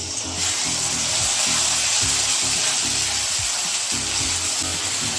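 Steady loud sizzling of garlic and ginger paste dropped into oil with browned onion, a continuous hiss with occasional stirring scrapes and no voices.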